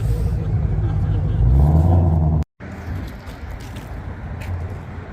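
A Shelby GT500 rolls past at a night car meet, its engine a steady low rumble that swells as it nears, then cuts out briefly before quieter traffic noise and voices continue.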